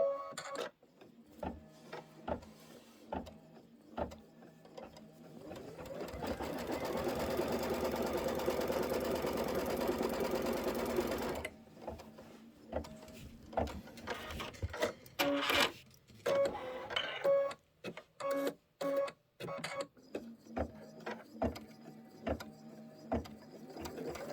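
An embroidery machine stitches a quilt tack down in a sustained, steady run of rapid needle strokes, with loud whirring mechanical chatter bursting into intermittent stops and short runs.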